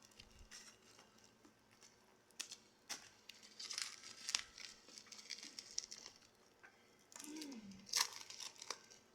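Scissors snip and packaging tears open while unboxing a parcel, with close, crinkly rustling, sharp cutting bursts and intermittent crumpling of plastic wrap, fairly quiet overall.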